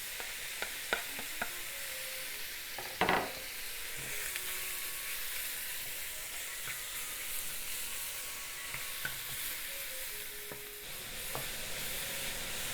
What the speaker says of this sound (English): Heat up wok or frying pan over medium-high heat and let's cook the pork first.